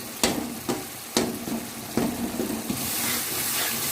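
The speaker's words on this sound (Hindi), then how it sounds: "हाँ, तो अब ये मैं टमाटर मैश करूँगी और स्पाइसेस भी मैं भून लूँगी" Mashed tomatoes and spices for chana dal khichdi frying in a pan, with several sharp spoon taps against the pan at a slow, uneven pace, then a steadier sizzle rising toward the end.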